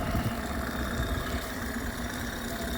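A 2010 Mercury 15hp outboard engine runs steadily at a near, loud, even drone with no break or change in pitch.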